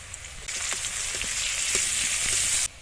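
Garlic paste frying in oil with chopped onion, whole cumin and dried chilli, a steady bright sizzle that jumps louder partway through and holds before cutting off, with faint low kitchen rumble beneath.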